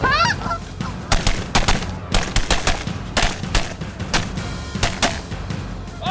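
Rapid volleys of shotgun blasts ring out during a waterfowl hunt, sharp and loud, over steady honking from a flock of geese, with the shots clustered in quick irregular bursts throughout.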